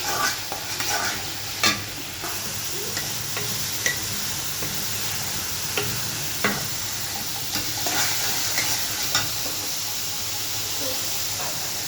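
Pangas fish curry with dried chili powder fries in a pan as it is stirred, a steady close sizzle and hiss with repeated scraping clinks of the spoon throughout, no talking.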